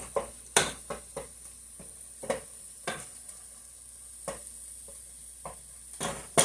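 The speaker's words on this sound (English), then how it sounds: "I'm going to just saute these vegetables just a little bit." Vegetables sautéing in a pan, with a steady low sizzle broken by a series of sharp scraping stirs spread irregularly through the stretch, quiet overall and with no voices.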